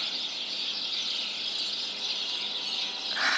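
Outdoor birds sing in a continuous high, bright chorus with shrill squeals and chirps, steady and moderately loud throughout, with no voices.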